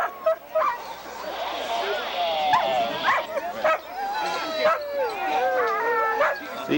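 Sled dogs at a dog sled race barking and howling in a noisy overlapping chorus, close by, with yips and long howls rising and falling over several seconds.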